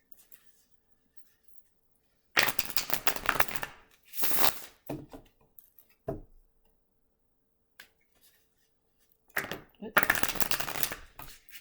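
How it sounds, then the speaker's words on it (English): Cards being shuffled in a few short, crisp riffling bursts, close by, separated by quiet pauses. "I've been struggling with the shuffling of the cards"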